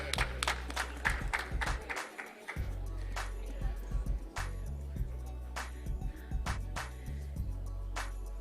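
Crowd applause and scattered sharp claps at a political party launch event in Atlanta, steady and moderately loud over a low background hum.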